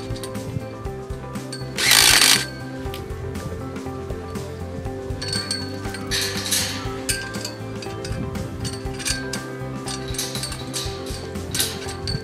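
A power tool with a socket fastens a gate latch to a post outdoors, with short buzzing bursts, metallic clinks and light rattles spread through the clip, one loud burst standing out early.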